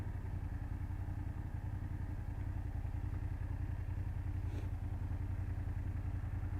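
BMW F800GS motorcycle engine heard while riding, a steady, rhythmic low thrumming pulse with road noise and no voices.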